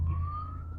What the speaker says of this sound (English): This is what recording in nature is like. Sirens.